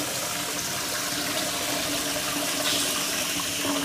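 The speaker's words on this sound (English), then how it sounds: "I'm going to flush now." A toilet flushes with an egg dropped into the bowl, a steady close rush of swirling, draining water running loud and unbroken throughout.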